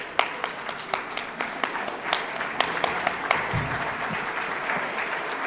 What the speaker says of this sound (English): give a rousing round of applause